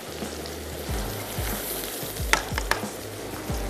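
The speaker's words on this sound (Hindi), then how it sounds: "इसमें हमने ऐड कर दी चॉप्ड प्याज, थोड़ा सा इसको सॉफ्ट होने देते हैं" Chopped onions, then boiled potatoes and carrots, sizzle and fry steadily in a pan, with stirring scrapes and a couple of sharp utensil clinks, close and without talk.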